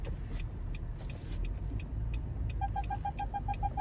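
A car pulling over to park on a busy street, with a low engine rumble throughout and a series of rapid, evenly spaced electronic beeps near the end.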